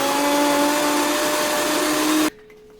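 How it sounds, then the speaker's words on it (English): Countertop blender pureeing cooked pumpkin, a loud steady high whir running continuously before cutting off abruptly near the end. "So all I'm going to do now is just blend it."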